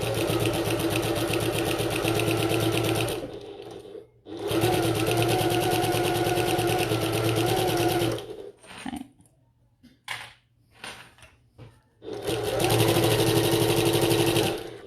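A sewing machine stitches a strap for a bucket tote in loud, sustained runs of rapid stitching, with a short pause around four seconds and a broken stretch of brief, stop-start bursts before a final steady run.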